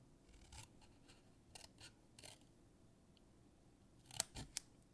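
Scissors snip along the score lines of a winged-lid Valentine's box, a few soft cuts early on and then sharper, louder snips near the end, heard close and alone against a quiet background.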